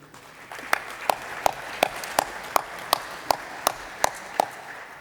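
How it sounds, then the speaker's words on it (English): Delegates in an assembly hall at a general debate clap in a steady, evenly spaced rhythm, about a dozen distinct claps sounding crisp over a low background hum. "An applause for them, please."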